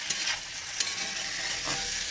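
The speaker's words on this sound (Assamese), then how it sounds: "নিমখ দি মই ভাজি থাকিম" Vegetables fry with salt in a home kitchen pan, a soft hiss of sizzling broken by a few sharp scrapes of a spatula stirring, close and fairly quiet.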